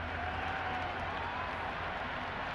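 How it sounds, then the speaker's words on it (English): A virtual stadium crowd in the Cricket 26 video game, at an IPL final between KKR and RCB, keeps up a dense, steady roar of cheering throughout, with no commentary over it. "The crowd are really getting quite raucous."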